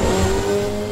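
An old-school tin-top race car in the Assetto Corsa racing game, with whistling turbos, holds a loud, steady engine drone at near-constant revs with a sustained tonal whine throughout, close and alone without voices.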